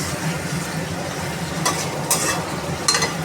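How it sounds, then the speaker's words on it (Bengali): Fish curry being stirred in a pan with ghee and garam masala, a steady frying sizzle with a few louder scraping strokes from the spoon. "ভালো করে মাছটা নাড়িয়ে নেব"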